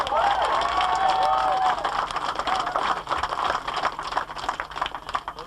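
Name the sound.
crowd applauding the referee Seamus Barrett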